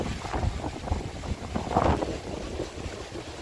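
Strong wind buffets the microphone, a continuous rumbling roar with gusty swells and no other clear sounds.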